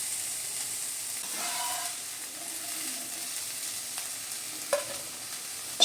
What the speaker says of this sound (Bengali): শিম বেগুন আমি ততক্ষণে ভাজতে থাকবো যতক্ষণ একটু লাল লাল হয়ে আসে।